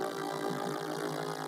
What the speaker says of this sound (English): And this is a high-speed tremolo,